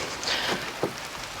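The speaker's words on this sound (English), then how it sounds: "Ugh, horrible, horrible rain." Rain falling steadily outdoors during shed door construction, a soft continuous patter with a few louder drops, fairly close and alone without talk.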